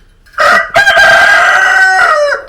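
A rooster crows once, loud and close, a long strained cock-a-doodle-doo in a farmyard with chickens and turkeys, with no talking.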